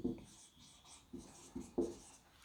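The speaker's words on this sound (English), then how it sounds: "Let us write it together." A pen scratches on paper during a class 10 maths lesson, with short quiet strokes in an irregular rhythm and no talk.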